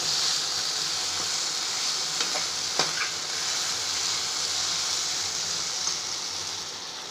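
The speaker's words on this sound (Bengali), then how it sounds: "মশলাটা দিয়ে একটু ভেজে নেব।" Spices sizzle and hiss steadily in hot oil, a continuous bright crackle with a few scraping stirs, close and even, no talking.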